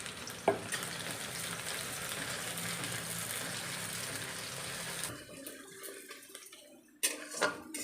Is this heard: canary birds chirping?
no